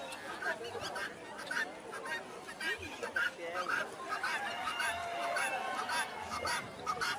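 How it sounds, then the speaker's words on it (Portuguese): Guineafowl call repeatedly amid geese and other fowl at a busy outdoor bird fair, harsh honking cries rising over a dense crowd murmur with people talking nearby. "Aí tinha a galinha da Angola que o tempo todo ela gritava."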